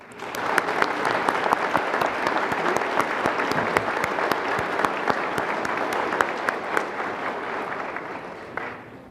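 Sustained applause from a graduation ceremony audience, dense and steady, with many hands clapping together for several seconds before tapering off at the end.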